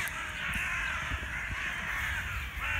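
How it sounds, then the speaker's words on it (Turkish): Crows caw harshly and continuously on a beach while squabbling with seagulls, a dense, steady chorus of overlapping calls at moderate distance with no talking. "Kargalarla martılar arası mevzu çıktı sanırım."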